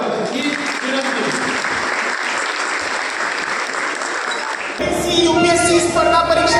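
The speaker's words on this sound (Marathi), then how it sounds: "सर्वांनी आलेल्या मान्यवरांसाठी जोरदार टाळ्या वाजवाव्या ही विनंती" A large seated audience at a community felicitation ceremony claps loudly and steadily for invited guests for several seconds, then a voice speaks over a hall microphone as the clapping ends.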